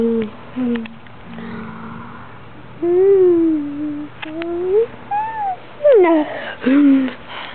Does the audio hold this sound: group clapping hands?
no